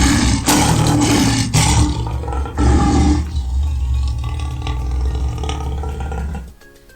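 A tiger roars loudly and up close in several deep, rough bursts, the first ones short and punchy, followed by a longer rumbling roar that fades out at the end.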